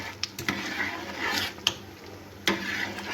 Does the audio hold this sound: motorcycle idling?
no